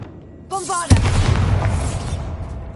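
A Bombarda blasting spell erupts in the Hogwarts Legacy video game, a loud deep boom with a rumbling, crackling tail that lingers for about two seconds after a brief spoken incantation.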